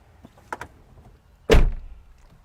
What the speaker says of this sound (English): when you shut the door